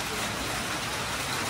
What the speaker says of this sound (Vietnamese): Đây, mưa này nha cả nhà.